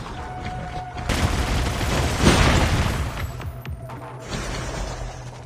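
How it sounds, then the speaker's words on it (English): Gunfire and heavy booms from a boss fight in the mobile shooter Call of Duty Mobile, a dense burst of shots and rumbling explosions swelling for a few seconds before easing into a lower din. "Changing mag."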